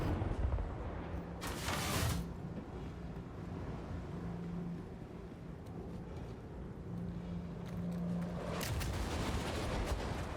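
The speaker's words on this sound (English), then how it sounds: "so weird that those missiles are hitting where I was" In the video game Star Citizen, missiles explode as two muffled, distant blasts several seconds apart over a steady low ship hum.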